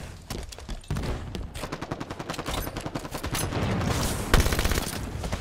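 Rapid automatic gunfire in Halo 5, a fast, steady stream of close, loud shots that keeps going for several seconds with a heavier blast near the end. No one speaks.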